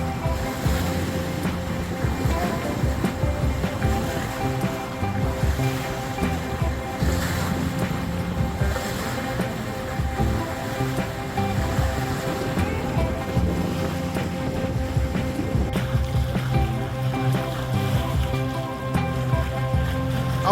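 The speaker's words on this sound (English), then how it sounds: "Running on one engine with the genoa out occasionally, doing about 7 knots." A sailing vessel off the Croatian coast near Hvar motors on one engine at about 7 knots with the genoa out, its steady engine drone mixing with continuous rushing waves and wind buffeting the microphone.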